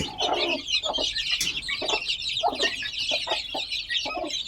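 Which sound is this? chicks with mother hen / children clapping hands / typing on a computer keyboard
chicks with mother hen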